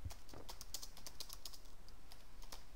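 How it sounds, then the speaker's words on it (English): Rapid, light clicks of typing on a computer keyboard run steadily and fairly close, with no voices. "Just type that in."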